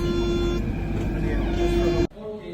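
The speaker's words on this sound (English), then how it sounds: "this is what the Athenian metro car looks like." An Athens metro car rolls along with a loud low rumble and a steady whining tone, then the noise abruptly drops away as it slows or stops, and a voice talks faintly over it.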